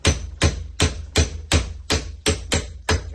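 A hammer taps a forged Bowie knife blade held in a vise: nine sharp, ringing metallic strikes at an even rhythm of roughly three per second, close and loud, with no voices.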